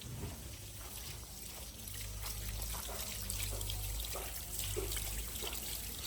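Water pours steadily out of two overflowing tanks. It makes a continuous, faint trickling and splashing that holds throughout, with no speech.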